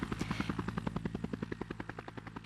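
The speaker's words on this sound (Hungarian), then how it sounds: "hogy túlhasogja a helikopter motorjának zúgását" A helicopter engine drones with a fast, steady chopping thrum of rotor blades, evenly pulsing and fairly close throughout.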